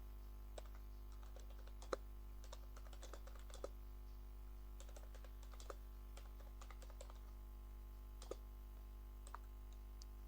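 Typing on a computer keyboard while writing text into a file, soft scattered key clicks in short irregular bursts over a steady low electrical hum, faint and close with no talk.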